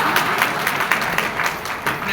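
An audience at a business lifestyle seminar applauds a guest speaker, a steady, fairly close patter of many hands clapping that continues throughout the short moment.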